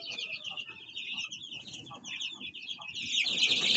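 Chickens clucking in a backyard, a continuous chorus of chattering clucks and bird calls, with a louder burst of calling rising toward the end, close and lively.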